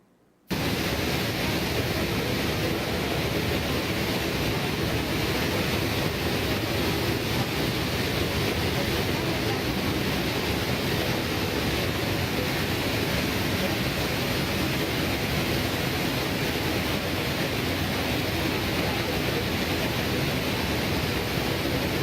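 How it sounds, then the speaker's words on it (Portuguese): A recording of a waterfall plays back as a dense, unbroken rushing roar, loud and steady for about twenty seconds after a brief quiet start. "para você poder entender um pouco o que é esse barulho da cachoeira"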